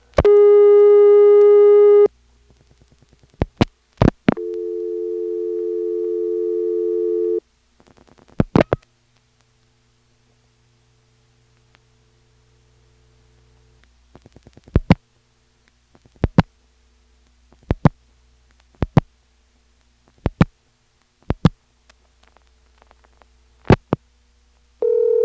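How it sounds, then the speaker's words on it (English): 1977 telephone call dialed out through a motel PBX onto the Siler City NX1 line: a steady tone, clicks, a second tone, then a long quiet stretch of evenly spaced sharp pulses and clicks. "we can dial 9 and hear what it sounds like to really dial from the Siler City NX1"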